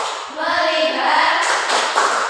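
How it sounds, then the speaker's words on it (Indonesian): A fifth-grade class performs a rhythmic focus clap together, with hand claps and thumps mixed into overlapping children's voices in a lively classroom. "Tepuk fokus."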